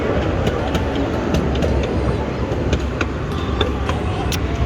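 A kid-friendly ride-on train runs at a steady, continuous rumble with faint clicks and rattles, close and moderately loud, while people talk faintly beneath it.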